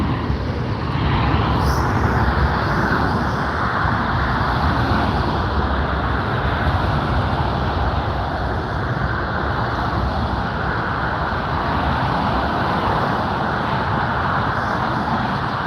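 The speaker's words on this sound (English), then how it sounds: "Austrian Airlines 777 making the turn." A Boeing 777 airliner of Austrian Airlines turning at LAX, heard as a steady, continuous broadband jet roar with low rumble, loud and unbroken throughout with no talk.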